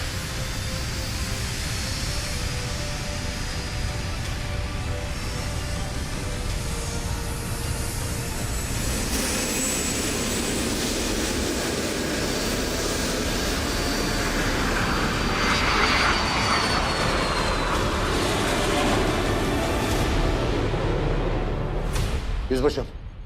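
A military aircraft roars on the runway during takeoff, its engine a loud, sustained rumble that builds in intensity over the stretch, with radio chatter and voices mixed in beneath it.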